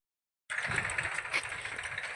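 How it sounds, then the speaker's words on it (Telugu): A tractor ploughing a farm field, its engine a steady, fairly close mid-pitched drone that cuts in abruptly after half a second of silence and runs on without a break. "ట్రాక్టర్ దున్నుతుంటే కొంగలు చూడండి పురుగులు తినడానికి ట్రాక్టర్ వెనకే తిరుగుతూ ఉన్నాయి"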